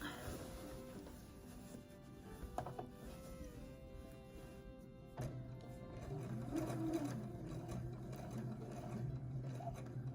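An old Husqvarna Viking embroidery sewing machine stitching, a close, steady mechanical whirr with rapid needle ticking that speeds up and grows louder midway.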